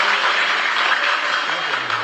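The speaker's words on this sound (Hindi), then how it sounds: "एक बार तालियां बजाइए बच्चे के लिए" An audience claps for a child at a religious discourse gathering, a continuous, fairly loud wash of applause filling the short stretch.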